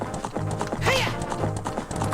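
Epona the horse gallops in Zelda: Ocarina of Time, with rhythmic hoofbeats and a brief whinny, heard close alongside game music.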